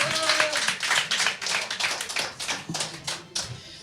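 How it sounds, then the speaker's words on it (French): An audience at the Bouyah d'Or 2022 awards event gives a short round of applause, close and fairly loud, with claps in uneven bursts and a voice briefly heard under them. "Merci de les applaudir."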